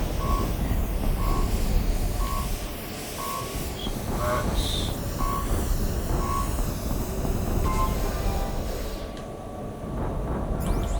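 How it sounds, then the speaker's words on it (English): A steady electronic alarm from Horizon Zero Dawn beeps in a regular repeating pattern over a constant mechanical rumble, with no talking. "What's that alarm?"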